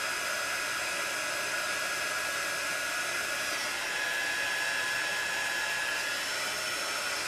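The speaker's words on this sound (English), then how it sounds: "Let me warm up my heat gun really quick." A heat gun runs steadily as it warms up before heating enamel work on a statement necklace, giving a continuous loud airy blower hiss with a faint high whine, unbroken from start to finish.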